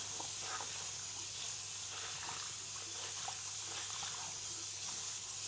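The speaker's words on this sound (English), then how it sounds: "I will wet this towel." Continuous hiss of running tap water soaking a towel, close and even, with faint splashing textures and a low hum underneath.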